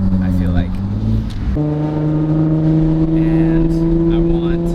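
Infiniti G35 with a VQ V6 engine and custom interchangeable exhaust, idling or cruising with a steady, droning low-pitched tone that holds loud and continuous throughout, with a brief shift in pitch partway through.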